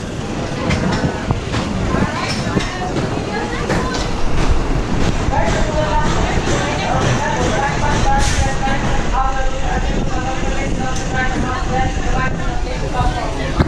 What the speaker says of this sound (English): Here comes our train coming into the station